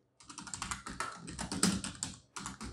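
Rapid keystrokes patter on a computer keyboard while CSS code is typed, a close, busy run of clicks with a brief gap near the end.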